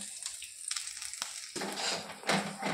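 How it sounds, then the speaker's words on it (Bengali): Semolina frying and being stirred in melted ghee for coconut barfi: soft crackling and scraping, quiet at first, then a fuller sizzle with stirring strokes toward the end. "এই ঘিতে সুজিটা আমি ভেজে নেব।"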